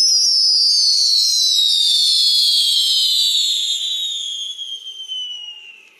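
ALDI consumer fireworks fire several whistling rockets at once, a loud shrill whistle that glides steadily downward in pitch for about five seconds before fading out.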